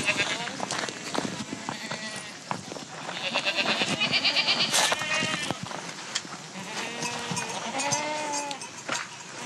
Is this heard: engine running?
no